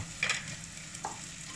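Chorizo frying with onions in a pan, its fat melting, makes a steady low sizzle with a couple of brief utensil scrapes near the start.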